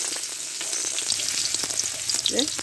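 Chopped onions sizzle and fry in leftover fish-frying oil, a steady close crackle with a few stirring scrapes near the end, no talk.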